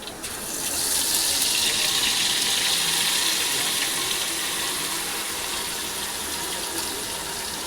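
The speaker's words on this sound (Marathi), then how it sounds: "आता आपण यामध्ये पाणी टाकूया." Water is poured into a pan of hot oil for a curry gravy. It begins as a sudden gushing rush and settles into a steady, close hiss and splash.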